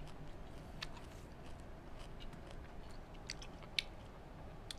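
Raw shrimp soaked in fish sauce being chewed close up, with soft, wet mastication and repeated crisp, crunchy bites at an uneven pace in a quiet setting.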